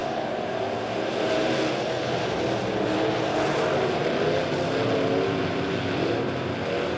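Modified stock cars racing on the Springfield Raceway oval at the Turkey Bowl, a steady loud wash of engine roar from several cars circling together without a break, with no nearby talk.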